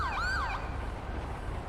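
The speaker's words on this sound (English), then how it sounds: "Here comes the ambulance." An ambulance siren wails briefly with a rising and falling tone, moderately near over low traffic rumble, then fades to a steady background hum.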